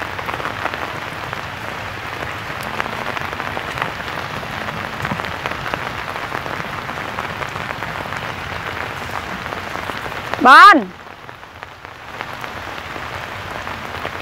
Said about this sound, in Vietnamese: coi nước nó từ trên kia nó chảy xuống nè